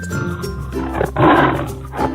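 A cartoon tiger lets out a loud, rough roar that swells midway and rumbles on over a busy background of music and effects, fading then rising again at the end.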